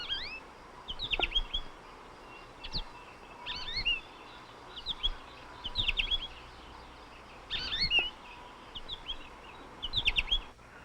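Hungry nestling birds chirp and call in repeated shrill bursts as the parent birds feed them, clusters of high tweets every second or two over a quiet outdoor background.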